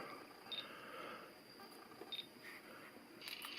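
A Pentax Optio E85 compact camera fired through hacked shutter wires gives two faint high electronic beeps about one and a half seconds apart, followed by soft shutter clicks in a quiet room.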